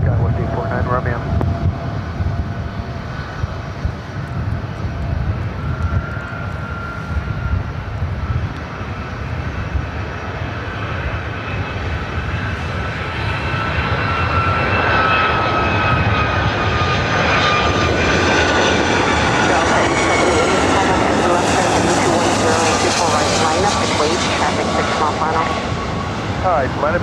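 A jet airliner roars at LAX airport, a loud sustained engine rumble that builds and rises in pitch as it passes close, with faint radio chatter underneath.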